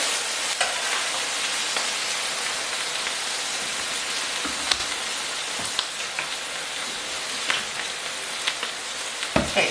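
Food frying in a pan until crispy, a steady broadband sizzle that stays loud throughout, with occasional sharper pops and crackles and no voices.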